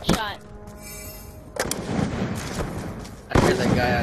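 Video game gunfire during a player's trick shot, a few sharp bursts of shots, loud and close, mixed with people talking and game voices over the top.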